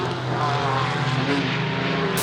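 Racing engine of a Porsche 718 Cayman GT4 RS Clubsport heard from inside the cabin, a loud, steady, droning roar with strong low harmonics and no talk.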